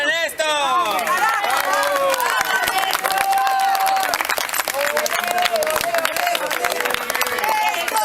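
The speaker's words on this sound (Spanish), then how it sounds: "Un aplauso para Néstor." Dense applause and clapping from a crowd at a radio program tribute fill the whole stretch, mixed with overlapping cheers and chattering voices close by.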